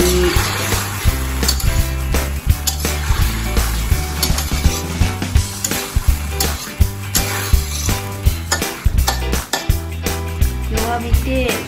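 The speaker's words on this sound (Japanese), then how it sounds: "最後はお豆腐全部入れます。" Tofu sizzling and frying in a pan while being stirred, a steady loud crackle with repeated scraping and clattering strokes of a utensil against the pan, close by.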